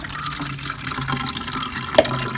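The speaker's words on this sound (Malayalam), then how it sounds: "ആ ഒരു കപ്പ് നമ്മൾ ഇതിലോട്ട് അരിച്ചൊഴിക്കുകയാണ് ചെയ്യുന്നത്" Liquid organic pesticide, a homemade vegetable pest remedy, poured from a cup through a strainer, a steady close trickle and splash of liquid running for a couple of seconds with no talking.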